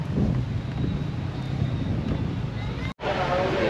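Strong wind at Taal Vista in Tagaytay buffeting the microphone in a dense low rumble that fills the recording, broken by a brief dropout near the end, with people talking underneath.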